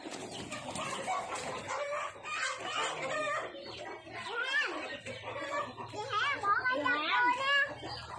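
Several chickens cluck and squawk nearby in a busy, continuous chorus, with voices and children talking in the background.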